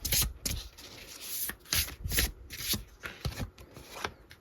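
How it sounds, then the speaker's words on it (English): A deck of tarot cards being shuffled by hand, with repeated close, crisp riffling bursts in a quick, uneven rhythm and no voices. "I shuffled them very, very well."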